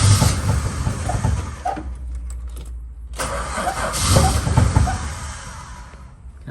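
A Valiant VH Charger engine cranks and catches, a loud steady churn of the starter with the motor sputtering and roaring up near the end, heard up close with no talking.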